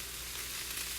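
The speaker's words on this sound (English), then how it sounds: "And you can hear this sizzling." Steady, dense sizzling of a soy nugget, vegetable and peanut stir fry in a hot pan, continuous and close, with no voices.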